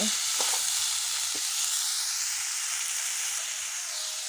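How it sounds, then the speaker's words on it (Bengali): Cauliflower frying in a pan at medium heat gives a loud, continuous sizzle and hiss up close, with a few faint scrapes as the pieces are stirred. "এখন কফিগুলো দিয়ে দেবো। মিডিয়াম আছে কপিগুলো 3 মিনিট মতো কষে নিলে হবে।"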